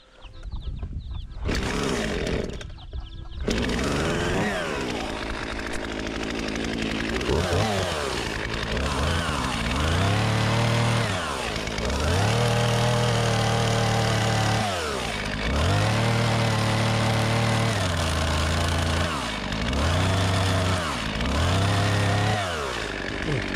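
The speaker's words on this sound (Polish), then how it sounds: "Trzeba tu piłą motorową wyciąć." A chainsaw revs and cuts into a log on a farm, loud and close, with its engine surging and bogging down in repeated long strokes after a brief start-up.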